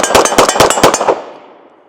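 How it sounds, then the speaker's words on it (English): A rapid string of about ten loud, close pistol shots from an Atlas Titan 2011 handgun fires in quick, even succession, then the echo fades away. "that was mag dumping it pretty much as quick as I can pull that trigger"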